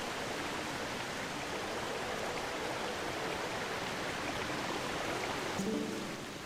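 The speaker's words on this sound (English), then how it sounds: "It's raining!" Steady rushing water from Legend of Zelda: Twilight Princess, a dense rain-like hiss of falling and flowing water that holds evenly throughout, with a brief soft tonal blip near the end.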